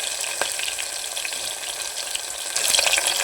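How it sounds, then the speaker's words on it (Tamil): Two large chopped onions sauté in a pan for prawn biryani, hissing with a steady, loud sizzle that swells briefly near the end, heard alone without speech. "நல்லா வதக்கிக்கலாம். லைட்டாக கலர் மாறும், கொஞ்சம் நேரம் வெயிட் பண்ணுங்கள்."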